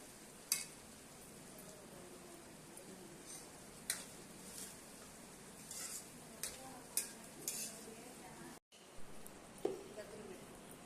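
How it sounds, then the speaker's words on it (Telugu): Onions, green chilies and curry leaves fry in hot oil for a bitter gourd curry: a soft, steady sizzle broken by intermittent spoon scrapes and taps against the pan. "ఇది కొంచెం బాగా బ్రౌన్ కలర్ వచ్చేదాకా ఉల్లిపాయ పచ్చిమిరపాయ వేయించుకోవాలి"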